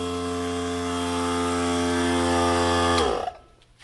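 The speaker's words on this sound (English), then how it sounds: "Ingersoll die grinder works really well for porting." An Ingersoll die grinder porting metal on a Megasquirt engine swap whines steadily at high speed for about three seconds, loud and close, then spins down and stops.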